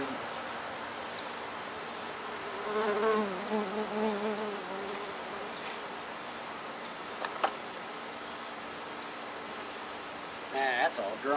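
A steady, dense hum of many honeybees buzzing close by from an open hive, continuous throughout, with faint voices and occasional clicks and rustles in the background.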